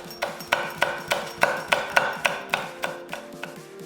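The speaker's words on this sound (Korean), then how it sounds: "그 다음 삼겹살 400g은 4cm 길이로 썰어서 차곡차곡 펴주고" A knife slices 400 g of pork belly into 4 cm pieces on a board, about a dozen crisp, evenly spaced chopping knocks in a steady rhythm, close and clear with no voices.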